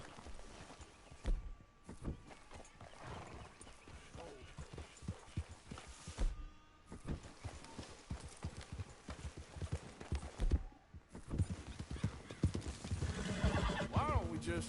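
Horse hooves clip-clopping at a walk with whinnies in Red Dead Redemption 2, with game ambience and voices talking over the steady hoofbeats.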